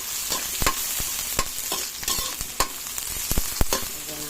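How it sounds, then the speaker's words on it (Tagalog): Garlic, onion and ginger sauté in a pan for ginataang langka with tuyo, giving a steady close sizzle broken by sharp, irregular spatula scrapes and clacks against the pan. "Tara guys, igigisa ko na. Ito na guys yung bawang. Ito yung sibuyas. Sunod ang luya."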